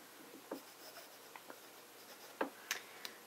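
Fountain pen nib scratching across paper with J. Herbin Orange Indien ink, a few faint, sparse strokes and taps, quiet and close with no talking.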